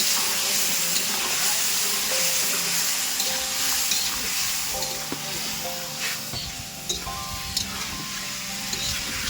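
Ground tomato paste fried and stirred in a pan with potatoes for a Bengali katla fish curry, a loud steady sizzle and hiss with scraping spatula strokes and small clinks, up close.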